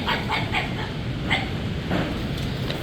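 A dog barks at blowing leaves on a seaside promenade during a windy November storm: a quick series of short, sharp yips and barks, moderately close, over constant loud wind noise.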